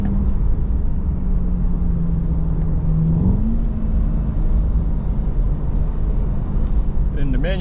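A Chevrolet C8 Corvette Z51 engine pulls hard with a loud, steady, deep rumble close by, its pitch sliding and rising partway through the run.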